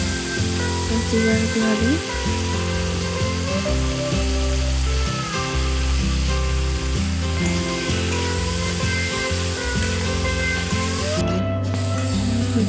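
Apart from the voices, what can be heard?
ginger and garlic sizzling in frying pan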